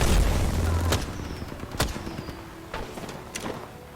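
Gunfire in the Apex Legends video game, a few sharp shots spaced about a second apart over a low rumbling game background, moderately loud with scattered smaller impacts between them.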